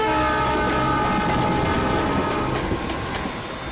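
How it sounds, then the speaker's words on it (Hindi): A passenger train bound for Delhi rolls along the rails, with a loud continuous rumble and a sustained tonal hum close by, fading slightly toward the end. "इसीलिए हम दिल्ली की ट्रेन में चढ़ गए"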